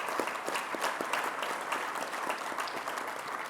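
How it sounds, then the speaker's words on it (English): Audience applause fills the room, a steady dense clapping from a crowd at a business conclave, even and sustained without pause, with faint voices mixed in. "Can we have a big round of applause for the Jainam guys,"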